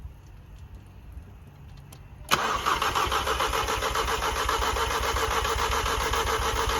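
A Volkswagen Golf 7 R with a bent valve cranks and fires after a quiet stretch, then settles into a steady, fairly close idle carrying a faint rapid ticking.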